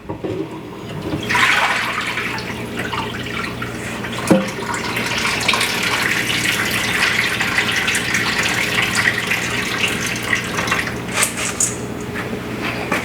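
Soaked red beans are rinsed under a running kitchen tap, a steady close rush of water with a few clunks and squishy handling noises partway through.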